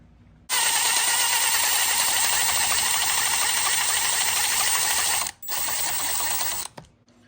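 A ratchet tightening bolts on a Rovan 5B RC car rattles in a loud, continuous close burst for several seconds, then stops briefly and resumes for one more shorter run.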